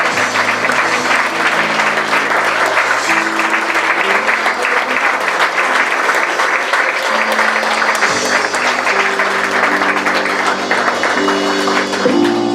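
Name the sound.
congregation applause in church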